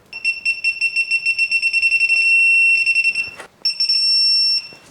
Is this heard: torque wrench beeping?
yes